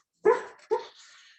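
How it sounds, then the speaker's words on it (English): A sleeping dog dreams indoors, letting out two short, close yips followed by a faint trailing whine in an otherwise quiet room. "That's my dog dreaming, sorry."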